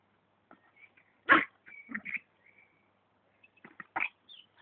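A small dog gives a few short, sharp barks and huffs between quiet gaps during ball play indoors, fairly close and moderately loud.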